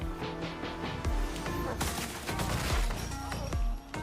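Sound-effect gunfire: a rapid volley of sharp, loud shots and crashing impacts in quick bursts, dense and close, filling the whole stretch.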